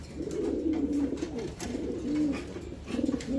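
Pair of black Lahori pigeons cooing close by, repeated soft throaty rolling coos in short phrases with brief pauses between them.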